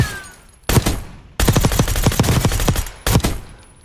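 Automatic gunfire from a weapon in Call of Duty Warzone, Black Ops 6 season on Verdansk: three loud, sustained bursts of rapid shots, the middle one longest, separated by short quiet gaps, with no talking.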